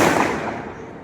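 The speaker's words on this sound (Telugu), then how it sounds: "చిన్న గ్రౌండ్లో బాంబులు అయిపోయి వెళ్తున్నాయి." Firecrackers burst in a small open ground, a single loud crackling blast that fades away over about a second, with no talk.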